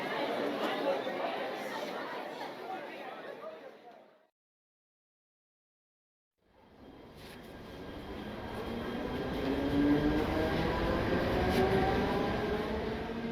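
Busy railway station ambience with a train rumbling and crowd chatter, a broad continuous roar that drops to total silence for about two seconds before swelling back, louder toward the end.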